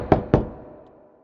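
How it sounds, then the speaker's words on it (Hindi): Two distinct knocks on a door, close and fairly loud, spaced about a quarter second apart and followed by a fading room echo, with no voices. "थम्बलीना ने दरवाजा खटखटाया"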